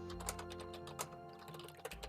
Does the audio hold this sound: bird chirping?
no